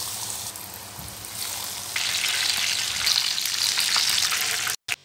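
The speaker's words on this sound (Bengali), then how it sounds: "বাকি কাটলেটগুলোও ভেজে নিচ্ছি।" Chicken cutlets fry in hot oil with a steady bright crackling sizzle that grows louder partway through, then cuts off abruptly with a brief clunk at the end.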